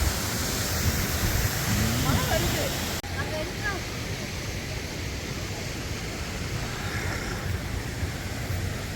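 A waterfall near Munnar, Kerala rushes with spray as broad, steady roaring noise, loud and constant throughout, with a brief voice and an abrupt level drop partway through.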